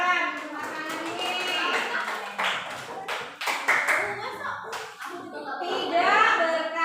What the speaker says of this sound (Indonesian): Iya, ya, tepuk tangan